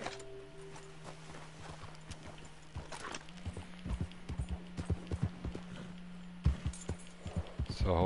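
A horse's hooves clip-clop on ground that may be icy, a run of distinct hoof strikes growing steadier and closer in the second half, with a steady hum and a person talking over them.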